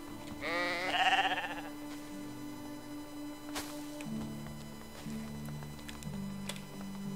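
Sheep bleat near the start in Medieval Dynasty, a wavering call or two, over a sustained electronic music bed with a few ticks.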